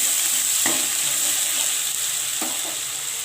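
Onion and dried chili paste stir-fried in a pan for a tangra fish curry with onion shoots, a steady close sizzle with a couple of soft stirring scrapes and no voices.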